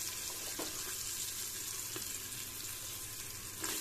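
Beans, carrot and snake gourd sauté with onions in a pan, giving a soft, continuous sizzle with a few light stirring scrapes, quiet and close, with no voices.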